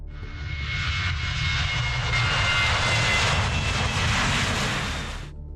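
A jet aircraft streaks past at high speed between buildings, its loud roaring engine swelling in and holding steady for several seconds before cutting off abruptly, with no voices.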